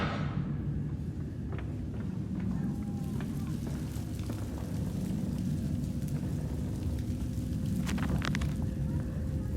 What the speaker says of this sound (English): The engine fires, the flames are stoked.